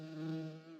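A honey bee buzzes close by in a steady, loud drone with a strong low hum and layered harmonics, holding for under a second with a slight swell in the middle.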